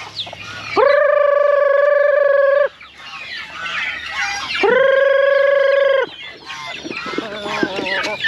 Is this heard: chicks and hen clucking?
yes